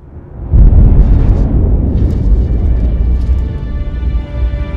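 A loud, close explosion at the watchtower in the video game Injustice bursts in with a heavy low boom, then rumbles on as a sustained roar with crackling debris.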